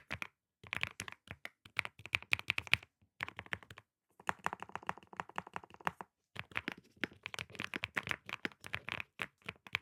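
Someone types on an Angry Miao RGB65, a premium 65% mechanical keyboard, producing quiet, close bursts of crisp key clicks separated by short pauses.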